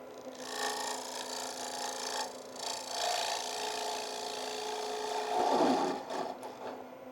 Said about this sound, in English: I'm using these carbide cutters